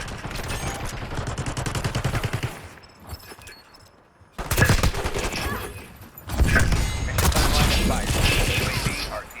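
Rapid bursts of AS VAL gunfire in Black Ops 6, with loud automatic volleys broken by a short pause, then resuming in heavy repeated fire.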